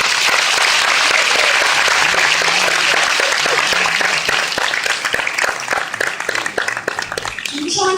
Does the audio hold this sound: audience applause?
yes